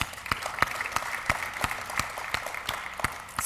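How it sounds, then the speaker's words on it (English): Sparse, evenly spaced claps at an IT industry forum, a few sharp hand strikes repeating in a slow steady rhythm over a quiet room. "Applause?"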